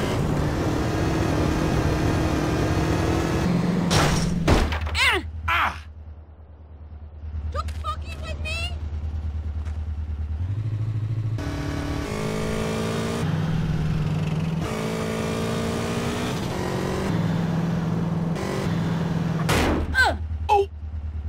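A car driven in GTA San Andreas on PS4, a steady low engine drone running throughout, with a few sharp impacts or shots and doors near the middle and end, under bursts of dialogue.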